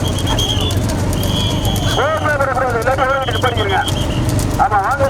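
Bullocks' hooves clatter during a bullock cart race at Kallal in 2025. The hoofbeats sit under a constant crowd rumble, with shrill rising and falling calls or whistles cutting through.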